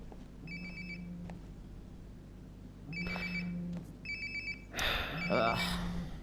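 A phone ringtone repeats inside the video game Life is Strange: Before the Storm, several electronic trilling rings close by with a voice speaking over the later ones.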